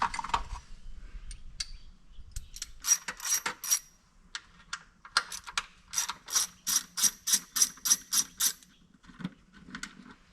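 A ratchet clicks in quick rhythmic bursts while the air cleaner comes off a 1976 Toyota Corona's engine, close and crisp with handling noise between, no talk.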